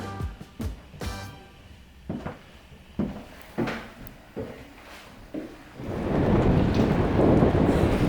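Outdoors in Stavanger, Norway: a string of sharp knocks and thumps, then a loud, steady hiss of rain or wind that builds and holds for the last few seconds.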